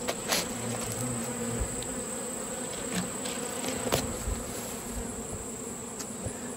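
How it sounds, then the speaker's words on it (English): Bees and European hornets swarm a bulk syrup feeder, the hornets hunting the bees; a dense, steady close buzzing drone of many wings with occasional louder passes near the listener. "look at all those European hornets, and you can see them. They're actually trying to catch bees."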